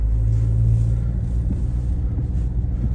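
Renault Koleos 2.0 dCi 4x4 automatic drives along with a steady low diesel rumble and road noise close inside the cabin, no voices, the engine note holding even with only slight swells.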